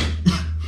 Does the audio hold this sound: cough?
yes